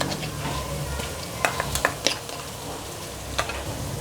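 Whole cumin seeds and black pepper frying in hot oil in a pan, a steady close sizzle with several sharp clicks and taps of a spoon against the pan scattered through it.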